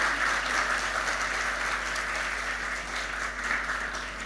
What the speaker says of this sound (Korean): 잠깐 일어나시면 환영의 박수로